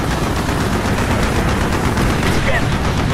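Rapid gunfire from the Call of Duty: Black Ops Redemption level, a dense continuous barrage of automatic weapons under loud battle noise, with voices talking over it.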